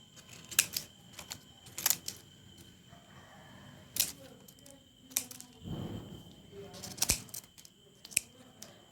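Sharp crisp snips from scissors or pruning shears cutting plant leaves near the stem sound at irregular intervals, close and fairly quiet, with soft rustling of foliage in between.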